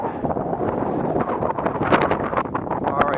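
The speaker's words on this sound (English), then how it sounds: "it might be too windy for you folks to hear this" Steady wind buffeting a microphone beside frozen Corton Lake in winter, a continuous loud rushing roar with gusty surges and no pauses.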